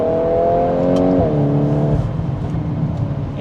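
A hot hatch engine, either a VW Golf R or a Honda Civic Type R, revs loudly up close in its sport drive mode, its pitch climbing and then dropping back at a gear change before settling into a steady drone.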